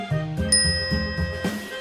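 A bright notification bell dings once, with soft chiming tones and a light rhythmic musical backing, short and close, with no voices.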